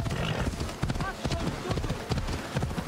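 Horse hooves clip-clop at a steady trot in Assassin's Creed Odyssey, loud and close, with occasional snorts and a continuous bed of game ambience, while someone talks over it.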